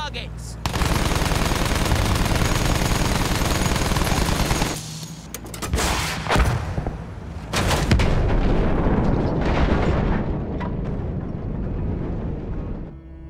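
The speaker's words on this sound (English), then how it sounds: "Try using the rockets on them. Get a feel for hitting the ground targets." Rockets fired at ground targets in Battlefield 1, heavy booming blasts and rumbling impacts in long loud stretches with brief lulls between, close and continuous, with a voice talking over the barrage.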